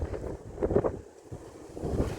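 Wind gusts across the open outdoor deck of the NCL Prima cruise ship, buffeting the microphone in uneven surges that briefly ease midway before building again.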